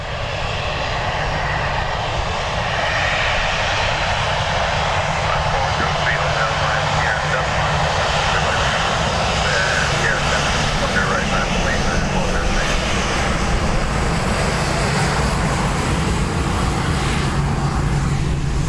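A Ryanair jet airliner departing Dublin Airport produces a loud, steady engine roar that holds for the whole stretch, with people talking faintly underneath.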